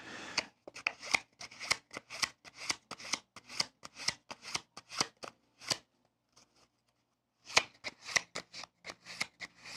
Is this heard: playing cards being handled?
yes